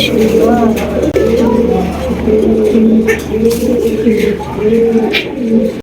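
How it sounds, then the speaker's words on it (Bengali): Racer pigeons at a pigeon farm coo continuously in loud, close, overlapping rolling phrases, a steady chorus filling the space. "দেখেন অনেক কবুতর দেখবেন ভাই"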